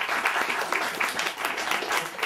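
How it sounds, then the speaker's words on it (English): A bookstore audience at a Chicago poetry reading breaks into lively applause, a thick continuous patter of many clapping hands, close and loud for over two seconds. "Why don't you all provide like uproarious applause right now?"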